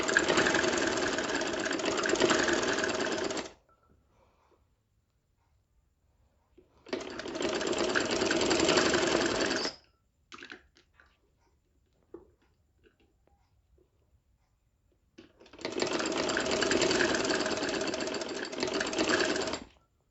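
A sewing machine stitches a round yoke kurti in three loud bursts of rapid, even whirring, each a few seconds long, separated by near silence with faint handling noises.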